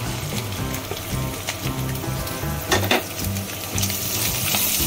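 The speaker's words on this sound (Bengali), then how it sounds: "ভালো করে ভাজা করে নেব বন্ধুরা। পেঁয়াজটা ভাজা হয়ে গেছে" Chopped onion, added to garlic, ginger and green chilli, fries in a pan with a steady close sizzle and occasional stirring clinks against the pan.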